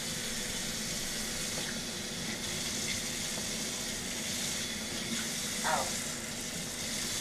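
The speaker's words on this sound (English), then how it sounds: "Rinse our knives. And wash grease off our" Water from a tap runs steadily into a kitchen sink while knives are rinsed and greasy hands are washed, a constant close hiss and splash with no break.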